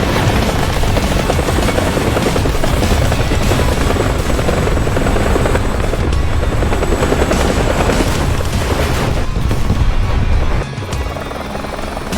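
A helicopter in the War Thunder combat game flies with a continuous dense rotor and engine roar, loud and close, mixed with booms from drone strikes, dropping in level near the end.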